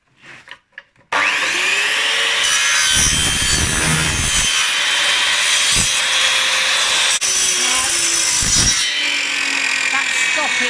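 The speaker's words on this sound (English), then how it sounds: "he can cut pieces at about 6 inches, pieces of this plastic tube" A plastic tube being sawn into six-inch pieces by hand, a steady rasping stroke running continuously after a short pause, close and fairly loud, with a couple of brief bumps partway through.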